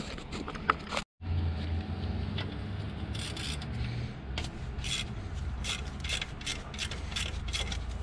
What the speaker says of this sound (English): I'm gonna have to loosen this bracket.